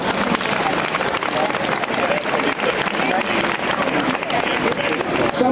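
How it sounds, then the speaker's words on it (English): Crowd applauding at a Great Blacks in Wax unveiling, loud continuous clapping packed close together with some murmuring and cheering mixed in, sustained throughout. "Let's give them a big, big round of applause."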